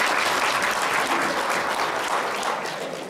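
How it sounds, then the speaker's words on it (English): Audience applause at a 2009 reunion gathering, a dense steady wash of many hands clapping that carries on evenly and tapers slightly at the end, with no talk over it. "Just one more round of applause for Florida"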